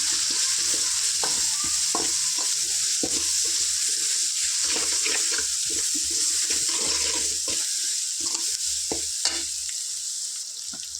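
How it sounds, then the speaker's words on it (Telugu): An egg masala base of onions with a spoon of turmeric fries in a pan, sizzling steadily up close while a utensil scrapes and stirs in frequent clicks and taps. "ఒక వన్ స్పూను పసుపు వేసుకుందాం దీన్ని చక్కగా ఫ్రై చేసుకుందాం"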